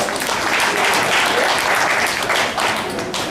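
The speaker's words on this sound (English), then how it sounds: "How about one more nice round of applause for Brian Powell" Sustained audience applause at a poker final table, dense and steady for about three seconds, filling the room evenly from start to finish with no voices breaking through.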